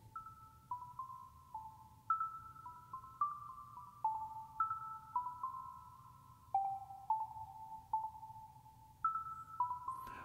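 An echo guitar sample soaked in reverb, a sequence of clean plucked notes stepping up and down in pitch, each ringing into trailing repeats, played alone at a moderate level.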